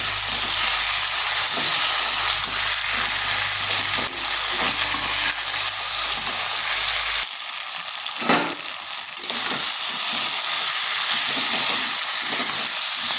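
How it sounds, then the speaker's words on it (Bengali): Ginger garlic paste sautés in a pan with a loud, steady sizzle and crackle, stirred now and then. A low hum underlies the first half, then drops away, and no one talks. "এরপর দিচ্ছি আদা রসুন পেস্ট। এটাকেও একটু কষে নেব যাতে এর কাঁচা গন্ধটা চলে যায়।"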